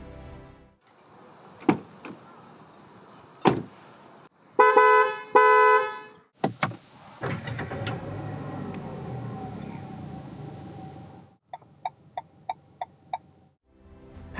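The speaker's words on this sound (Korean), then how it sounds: "잠시 신형 QM6가 들려주는 소리들을 들어볼까요?" A 2019 Renault Samsung QM6 LPe makes its warning and signal sounds: isolated thumps, a few short horn blasts, a longer droning stretch, then a quick series of bright chirps. The sounds are close and moderately loud, and no one talks.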